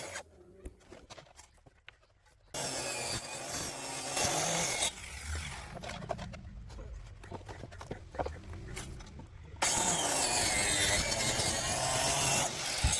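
A cutting wheel works through wood for a name board, giving a rough grinding, rubbing noise that stops and starts in bursts and then runs louder and steady toward the end, close by with no speech.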